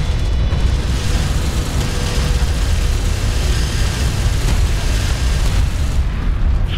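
Strike craft blowing up in the real-time strategy game Homeworld: Deserts of Kharak, heard as a loud, continuous roar of explosive rumble with scattered bursts and no voices over it.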